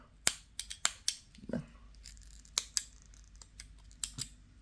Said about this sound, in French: Alors on va prendre nos ciseaux. On vient couper un morceau de fil quand même assez long